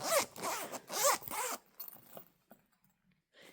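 Zipper on a bag being pulled in quick, rasping strokes up close, two loud runs followed by fainter short zips and handling sounds.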